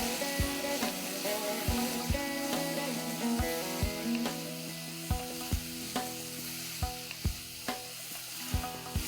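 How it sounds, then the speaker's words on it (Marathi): Potatoes sautéing in hot oil after a mustard-seed, asafoetida tempering: a steady close sizzle with sharp pops and crackles at irregular intervals, no voices. "मोहरी तडतडली की आधी आपण बटाटे चांगले 2 मिनिटं परतून अर्धे शिजवून घेऊया।"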